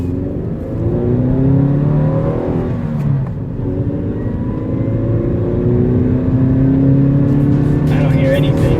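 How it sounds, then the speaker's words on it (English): A warmed-up Mazda car engine runs steadily up close, its pitch rising and falling as it revs several times. "Engine's all warmed up."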